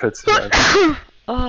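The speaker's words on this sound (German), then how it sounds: "Gesundheit." One sharp sneeze bursts out in the middle of German conversation between players during a Hearthstone card game, with voices speaking just before and after it.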